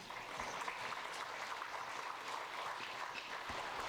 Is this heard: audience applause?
yes